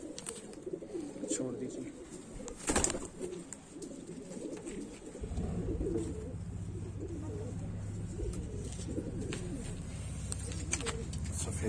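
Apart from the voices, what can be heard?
kalpari female pigeon cooing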